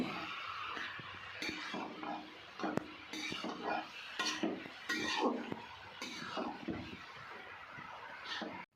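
Cabbage and salt are mixed in a pan for a fish-head cabbage dish, with a spoon scraping and clinking against the metal in close, irregular, repeated strokes.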